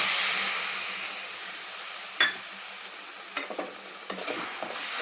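Soy milk powder peda mixture simmers and sizzles in a pan while a spoon scrapes and stirs it with a few sharp clicks, close and fairly quiet, with no talk.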